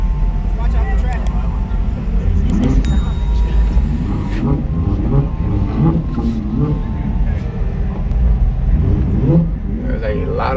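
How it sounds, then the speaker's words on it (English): Cars rumble, rev and pass by at a GAS ATL car meet, with low engine drone and a few accelerating sweeps, while people talk nearby throughout. "There's a lot of cars out here"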